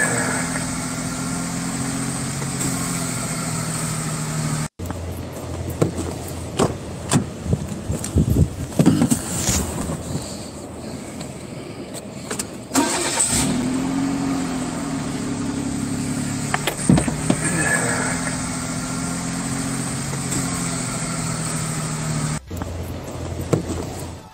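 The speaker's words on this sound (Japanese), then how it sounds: "アイドリングポルシェ。 ほら、ギルギル、ブーってこの重低音響かせるね。" A Porsche engine idles with a deep, low, steady rumble, close and continuous, with a few blips and knocks along the way and no voices.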